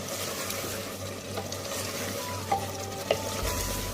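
Chicken fries over high flame in a pan with yogurt and garam masala, and a spoon stirs it, giving a continuous close sizzle with soft scraping and a couple of sharp metallic taps.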